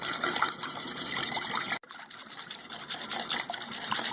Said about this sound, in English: we're just whisking the egg, the milk, the vanilla, and the cinnamon together